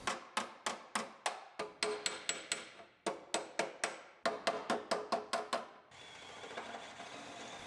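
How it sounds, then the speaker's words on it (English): Metal hammer-and-dolly blows straightening the upper rail of a Ford Focus during a body repair, sharp ringing strikes in quick bursts of about five to eight with short gaps, ending in a steadier hum. "We'll just hammer and dolly it back to where it belongs."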